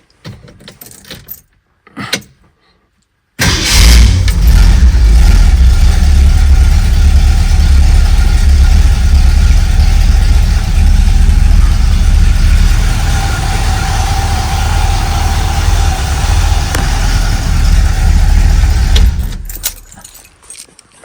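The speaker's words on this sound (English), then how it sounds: "I'm just going to start it, see if it starts." A 1964 Ford Galaxie fitted with cheap mufflers cranks after a few brief clicks, then catches and runs loud and steady with a deep exhaust rumble before shutting off near the end.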